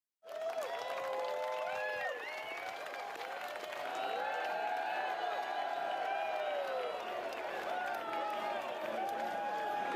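A crowd gathers to greet arriving football recruit David Sanders, with sustained cheering, shouting and whistles rising steadily and continuing loud and near throughout, voices mixed in the din.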